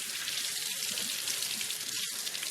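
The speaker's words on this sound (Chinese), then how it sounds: "用清水清洗干净" Fresh lamb being rinsed under running water: a steady, close, even rush of water from start to end with no talking.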